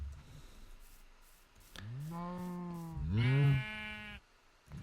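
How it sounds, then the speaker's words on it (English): Sheep in Minecraft with the JurassiCraft mod bleat twice in quick succession, two loud, wavering synthetic bleats close up, the second higher and stronger, with no talk over them. "Let's see if I give them sheep."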